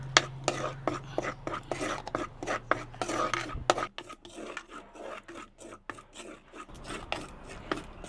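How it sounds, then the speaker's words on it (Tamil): Chili powder stirred and roasted in a pan, heard as a steady run of close, dry scraping and rasping strokes, fairly even in rhythm and fading slightly toward the end. "மிளகாத்தூள் ஒரு 2 கரண்டி எடுத்து நல்லா சட்டியில் போட்டு அப்படியே கொஞ்சம் வறுத்தெடுப்போம்"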